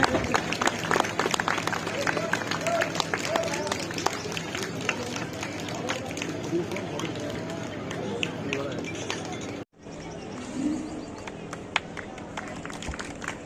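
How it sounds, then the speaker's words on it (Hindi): An audience at an Arya Samaj training camp closing ceremony keeps up sustained applause, a dense, steady clatter of many hands with crowd noise beneath, briefly cutting out before it resumes. "तालियां लगातार होती रहनी चाहिए।"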